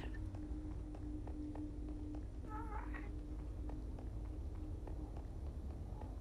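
Minecraft cat sounds, with a brief meow in the middle over a faint, steady game background and light clicking, with no talking.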